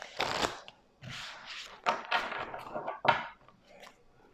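Tarot cards are shuffled and drawn by hand, close, soft papery riffles and slides in several separate bursts with short pauses between them.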